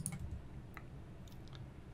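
A computer mouse clicks a few times while navigating in Blender 3D: faint, isolated, sharp taps with quiet room hiss between them.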